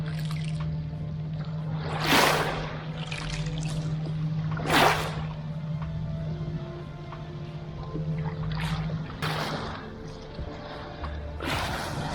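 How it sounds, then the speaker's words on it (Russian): Small waves lapping and washing over a pebble shore on the Croatian coast, with soft repeated surges rising every few seconds over a steady low background hum. "Сейчас послушайте немножко шум воды, шум маленьких волн и получайте удовольствие."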